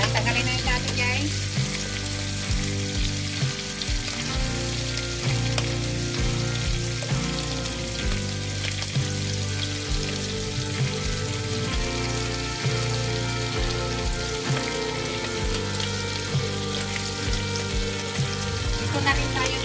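Shrimps and mixed vegetables fry in a pan with a loud, constant sizzle and crackle, broken by occasional stirring scrapes, continuing unbroken for about twenty seconds.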